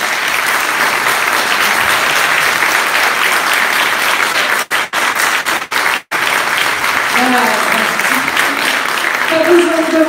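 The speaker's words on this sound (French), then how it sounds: "Je vous demande de faire une ovation et d'applaudir bien fort Jim et Elisabeth" Loud, sustained audience ovation with dense clapping and some cheering at a political public meeting, briefly dipping for a few moments before swelling again to the end.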